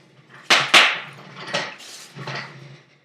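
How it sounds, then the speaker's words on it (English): Bubble wrap and chairs creaking during an unboxing of Audi merchandise: two sharp crackling pops close together, then a few softer rustling crinkles and shuffles, close and fairly loud with no talking. "That's the sound of bubble wrap and chairs."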